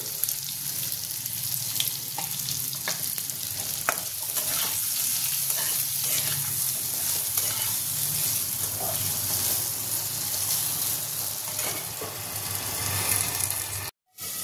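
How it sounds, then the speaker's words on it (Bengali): Potatoes frying in oil in a pan give a steady, close sizzle with scattered crackles that runs for about 14 seconds. It cuts out briefly near the end. "এবার আমি আলুটা ভেজে নেব"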